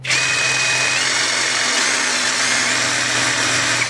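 A cordless metal shear motor whirs steadily at its high speed setting, a loud, close, continuous electric whine with a faint tone stepping down partway through, and no voices.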